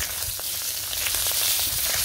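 Fish frying in oil in a village kitchen makes a steady sizzle with scattered small pops and crackles, fairly close and without talk.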